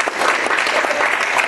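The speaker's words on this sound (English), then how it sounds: "a big round of applause to the speaker" An indoor audience applauds a speaker, a short, dense burst of many hands clapping steadily and fairly loud throughout.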